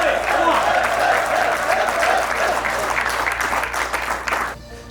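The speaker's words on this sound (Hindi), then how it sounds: "ताली बजाने, चीखो चीखो चिल्लाओ" An audience at a coaching event claps and cheers loudly and continuously, dense near applause with shouting voices woven through, cutting off abruptly at the end.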